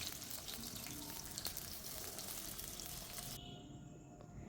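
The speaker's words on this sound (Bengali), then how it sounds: "হলুদ একটু দিয়ে ভালো করে আমি আলুগুলো সুন্দর করে লাল লাল করে ভেজে নিচ্ছি" Potatoes fry with turmeric in hot oil in a wok, giving a continuous close sizzle that eases slightly toward the end.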